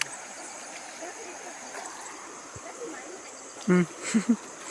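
Steady hiss of clear flowing stream water heard outdoors, continuous and moderate, with someone briefly speaking over it near the end.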